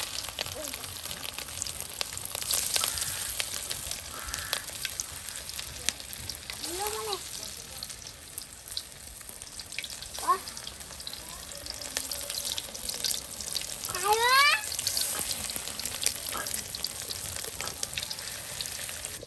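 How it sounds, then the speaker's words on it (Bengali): Fish-oil fritters fry in hot oil during village-style outdoor cooking, making a continuous even sizzle throughout, with a few faint bird-like chirps in the background. "এই যে এখন দেখুন মাছের তেলের বড়া তৈরি করা হচ্ছে।"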